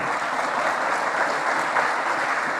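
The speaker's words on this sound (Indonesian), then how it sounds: "Tepuk tangan." A crowd at an Indonesian NU–Muhammadiyah gathering applauds to welcome a speaker, with dense, steady clapping that stays loud and even throughout and no one speaking over it.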